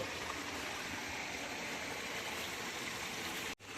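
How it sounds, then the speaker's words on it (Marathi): Spring water gushing out from rocks at a Konkan temple site, a steady close rushing flow with no voices, cut off briefly near the end. "दगडामधून झरा फुटलेला आहे."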